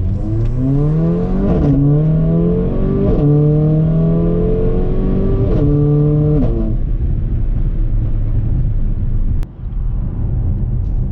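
Mercedes-AMG GLA45 with a tuned transmission in Sport Plus, engine revving hard through rising and falling harmonic sweeps as it shifts and downshifts, loud and close, then settling into a steady rumble.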